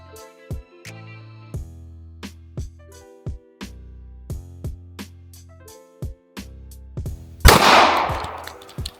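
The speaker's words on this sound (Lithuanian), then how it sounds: "atliekam tap, reg, shoot, pašalinam nesuveikusį šovinį" Firearm shots fired during a malfunction-clearing drill with faulty ammunition, a series of sharp, close, loud cracks spaced irregularly, ending in a denser burst with a rattling, noisy tail.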